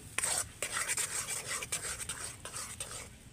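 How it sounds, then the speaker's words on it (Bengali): Palmyra palm pulp stirred in ghee in a pan, a soft repeated scraping and rubbing with occasional sharper utensil knocks, close and quiet. "তালের পাল্পটাকে আমি ঘিয়ের সাথে একটু এইভাবে নেড়ে নেব।"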